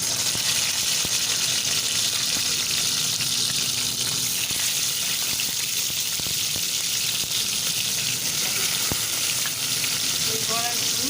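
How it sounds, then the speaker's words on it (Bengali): Poya fish and gourd leaf fritters fry in hot oil, giving a dense, steady sizzle that fills the whole stretch at an even, close volume. "আমি এখন একটা একটা করে বড়াগুলো দিয়ে দিব।"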